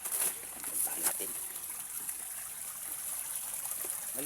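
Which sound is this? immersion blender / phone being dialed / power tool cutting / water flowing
water flowing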